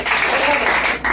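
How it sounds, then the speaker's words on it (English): Crowd applause at a comedy show in a bar venue, a brief, loud burst of clapping from the audience with a short dip near the end. "Give yourselves a round of applause."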